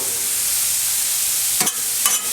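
Bacon and meat fry on a Blackstone griddle at around 375 to 400 degrees, a dense, steady hiss of sizzling fat with two brief scraping strokes of a spatula near the end.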